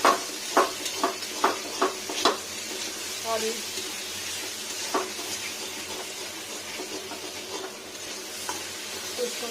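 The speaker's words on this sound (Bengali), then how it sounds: "এবার খুন্তি দিয়ে না ওলট পালট করবো" A metal spatula tosses soybean chunks frying in spices in a pan. Sharp scraping knocks come in a quick rhythm at first, then ease into a soft, steady sizzle. A voice speaks briefly.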